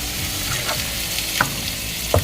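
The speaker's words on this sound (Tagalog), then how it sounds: "Haluin natin. Baka dumikit. Nagmamantika na." Kaldereta sizzles in oil in a pan while it is stirred, a steady frying hiss broken by a few scraping spoon strokes, the loudest clatter near the end.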